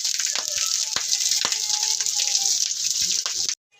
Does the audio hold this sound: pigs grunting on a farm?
no